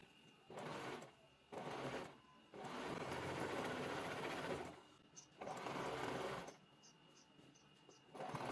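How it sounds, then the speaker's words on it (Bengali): A sewing machine stitches blouse neck strips in bursts of rapid, even mechanical whirring, several runs of a few seconds each separated by short pauses, close and loud with no talking. "আমি চলে এসেছি সেলাই মেশিনে।"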